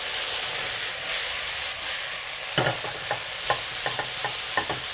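Pork and fresh shiitake mushrooms stir-fried in a hot pan, loud hissing sizzle at first, then a quick series of spatula scrapes and clanks as the food is tossed, with no speech.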